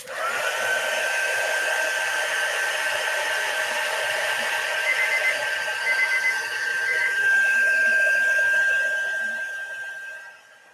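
A handheld hair dryer runs steadily to dry a mixed media artwork, a loud, continuous whirring blow with a high whine that holds for about ten seconds before cutting off.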